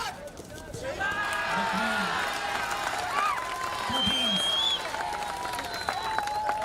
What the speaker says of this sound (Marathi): आपण आपल्या टाळ्या तशाच चालू ठेवल्या पाहिजेत जेणेकरून खेळाडूंना प्रोत्साहन मिळेल